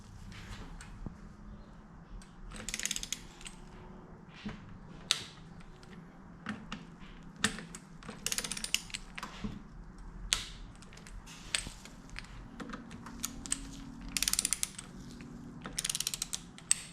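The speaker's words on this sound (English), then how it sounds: "So I've only got this big torque wrench at the moment." Repeated ratcheting clicks from a large torque wrench tightening parts on a Honda VTR1000 engine during a crank repair, coming in short irregular bursts of mechanical clicking with quiet gaps between them.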